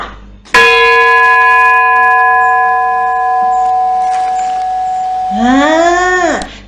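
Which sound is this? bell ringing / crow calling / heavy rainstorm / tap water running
bell ringing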